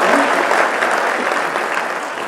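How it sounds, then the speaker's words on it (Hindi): Listeners at a Hindi devotional poetry talk clap together in a dense, even patter of applause, fairly close and steady, gradually easing off without any speech over it. "आप लोग तालियां भी बजा सकते हैं"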